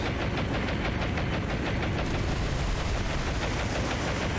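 Enemy gunfire in the naval combat game War on the Sea, a dense continuous rattle of rapid shots blended with a roaring engine-like rumble, loud and unbroken throughout.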